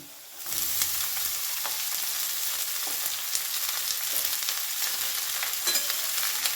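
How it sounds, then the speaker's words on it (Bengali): Chopped cabbage goes into a pan of frying potatoes, and after a short quiet start a loud, steady sizzle rises and carries on, with faint stirring scrapes close by. "এবার এর মধ্যে আমি দিয়ে দেবো কেটে রাখা বাঁধাকপি"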